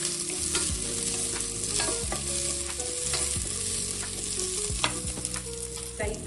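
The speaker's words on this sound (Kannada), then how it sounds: "ನೆಕ್ಸ್ಟ್ ನಾನು ಬೆಳ್ಳುಳ್ಳಿ ಮತ್ತು ನಾವು ತೊಗೊಂಡಿಟ್ಕೊಂಡು 2 ಹಸಿಮೆಣಸಿನಕಾಯಿ ಹಾಕೋತಾ ಇದ್ದೀನಿ." Garlic and two green chillies fry in hot oil with a constant sizzle, while a spoon scrapes and stirs the pan in repeated sweeping strokes.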